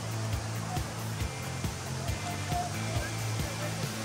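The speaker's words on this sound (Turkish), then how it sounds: "burada başlıyor işte Yeşilköy Şelaleleri denen" Yeşilköy waterfalls in Turkey rushing steadily, a continuous broadband roar of falling water with no voices, close and constant throughout.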